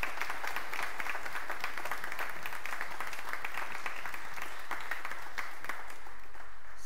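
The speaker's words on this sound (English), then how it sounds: "Y'all should applaud for Jill" Church congregation applauding during a traditional Sunday worship service, a steady wash of many hands clapping at moderate distance, fairly quiet and continuous without talk.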